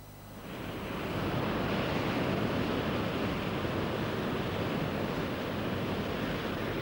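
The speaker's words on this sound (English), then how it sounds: "This is the Pacific Ocean." Pacific Ocean surf breaks on a California beach, swelling within the first second into a loud, steady wash of crashing water that continues unbroken, with some wind noise.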